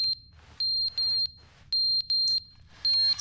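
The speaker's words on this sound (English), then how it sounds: "Smoke alarm?" A smoke alarm in a video game gives a run of piercing, high electronic beeps in short bursts, about six of them, with a quiet room-like background between.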